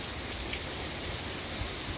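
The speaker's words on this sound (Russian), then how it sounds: "какой у нас сильный дождь идет" Dense, steady downpour of heavy rain during a hurricane, hissing on surfaces, continuous and fairly loud with no voices.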